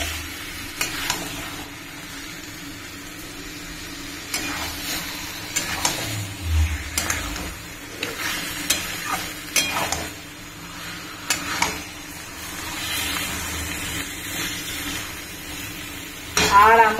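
Meat with ground garam masala frying in a pan while being stirred, soft sizzling broken by repeated scraping and clinks of the spoon against the pan.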